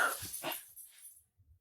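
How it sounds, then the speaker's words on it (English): Dogs bark and yip excitedly indoors in a brief burst of a few quick barks, fading to small whimpers, moderately near and not loud. "see, there's the dogs again."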